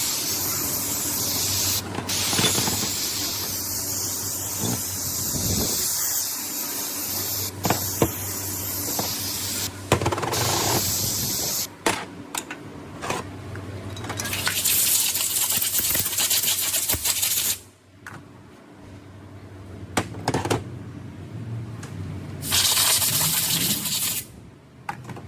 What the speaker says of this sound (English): Go ahead and spray these down.